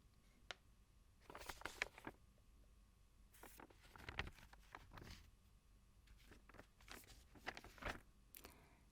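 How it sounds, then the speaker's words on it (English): Paper is handled up close in a quiet room, with irregular rustles, crinkles and soft swishes coming in short bursts separated by pauses. "If you said paper, you're absolutely right."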